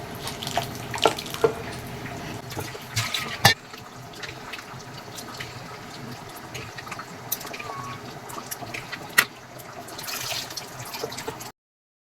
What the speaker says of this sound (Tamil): இப்போ வந்து புளி கரைசல் இதில் ஊற்றிடலாம்.